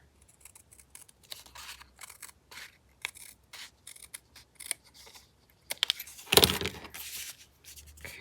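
Scissors snipping through a paper file folder for a handmade journal cover, a series of close, crisp cuts in irregular bursts with short pauses, ending in a louder crunching cut and rustle.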